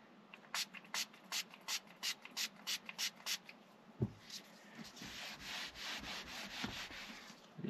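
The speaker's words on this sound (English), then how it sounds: "I'm just going to rub it into the seat" Auto Finesse interior ceramic coating being rubbed into a car seat by hand, close and quiet: about a dozen rhythmic rubbing strokes, then a softer, more continuous scrubbing and wiping.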